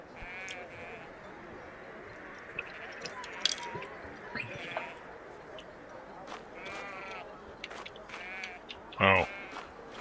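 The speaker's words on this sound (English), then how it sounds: "Sheep are wandering close to the village." Video game sheep bleat several times at a moderate distance near a village over a soft outdoor ambience, with one louder, closer bleat near the end.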